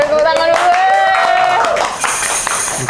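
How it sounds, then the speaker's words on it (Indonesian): Audience clapping at a talk on student leadership, brief clapping beneath a voice, fairly loud. "Tepuk tangan dulu."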